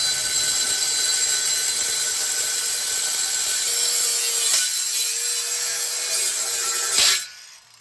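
Power cutting tool slicing off part of a junkyard car piece so a coupler will fit, a loud continuous grinding whine held for about seven seconds before stopping abruptly, close up with no talk.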